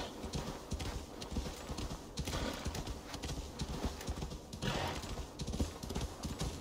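Rhythmic clip-clop of a horse's hooves in Assassin's Creed Valhalla, a steady, fairly close trotting pattern that continues throughout, with a faint whinny.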